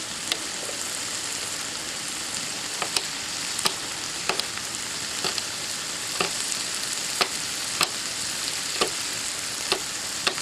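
Fresh chilli, seeds left in, sizzles in a Ridgemonkey pan, a steady close frying hiss punctuated by regular sharp crackles and stirring clicks, with no talk.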